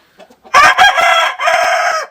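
A rooster crows loudly and close by in a farmyard henhouse, one long drawn-out call with a short break partway through, following a few quiet clucks.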